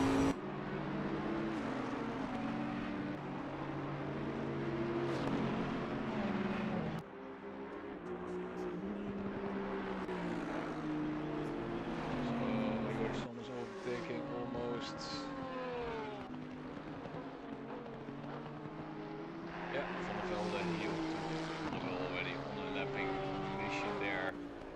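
GT3 race cars roar around the Bathurst circuit in a racing game, engines droning steadily with rising and falling pitch as cars overtake, loud and continuous beneath ongoing commentary voices.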